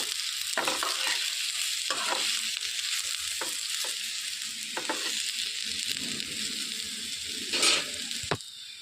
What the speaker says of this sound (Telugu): అన్నిటిని వేసేసుకొని కలిపేసుకోవాలి మెల్లగా ఉడిపోకుండా